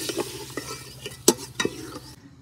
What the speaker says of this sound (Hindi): इसमें मज़ीद मैं ये चिकन जो है इसको मैं भूनूंगी, जब तो वो अच्छे से जो है मसाला हमारा भून जाएगा।